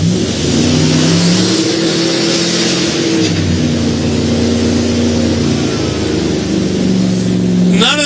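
A 1971 Ford F250 custom truck revs hard during a burnout competition at a truck fest in Billings, Montana, its engine roaring loud and continuous with rising and falling pitch held throughout.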